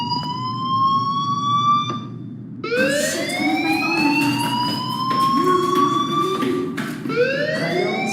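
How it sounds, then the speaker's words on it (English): Fire alarm in the video game Life is Strange: a loud, continuous electronic siren tone sweeping upward in repeated rising wails, with a brief break partway through, over a steady low rumbling background and no talking. "do you hear that fire alarm? That means you should be outside."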